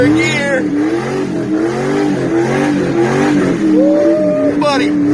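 A car engine revs up through third gear in a workshop setting, rising and falling in pitch over steady loud engine noise, with people talking and shouting over it.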